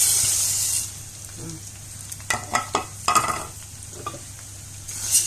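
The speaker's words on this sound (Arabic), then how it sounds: "نحمر لسان العصفور اهو، يبقى متحمر يعني مش محروق يعني بني كده" Orzo pasta (lisan asfour) frying in oil in a pan, a soft steady sizzle with scattered scraping stirs and utensil clicks in the middle of the stretch, close by with no talk.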